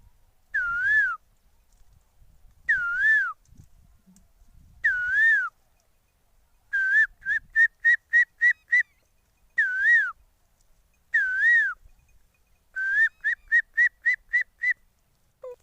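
A person whistles an imitation of Asian koel birdsong: clear, rising two-note calls repeated at a steady pace, some followed by quick runs of short staccato notes, alone against near silence.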